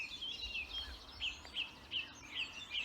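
A blackcap sings its warbling song from trees during an April dawn chorus, faint and distant, with short bright phrases repeating about every half second over a quiet outdoor hush.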